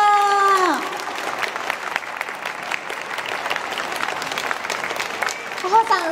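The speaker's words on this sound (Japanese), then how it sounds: "会場の皆様かほさんに今一度盛大な拍手をお願いします" An audience at a children's safety awareness event run by Yokohama city and Kanagawa police breaks into sustained applause as a sung note fades. Dense, even clapping fills the hall, with a few voices near the end.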